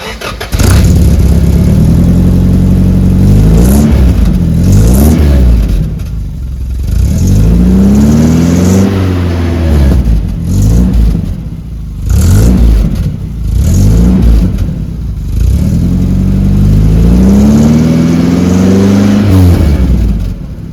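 A worn-out project car's engine fires up for the first time and is revved hard repeatedly, with loud rising and falling roars separated by brief rough idles, very close and dominating throughout.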